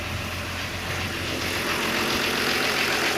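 A BMW 324 engine, troubled by random stalling, idles in a steady, low, even rumble with a faint hiss on top, running close by without revving.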